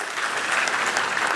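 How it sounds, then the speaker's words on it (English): Brief, full applause from the audience at the official launch of the John Evans Atta Mills Memorial Heritage, a thick, steady burst of many hands clapping at close range. "they all deserve a big round of applause"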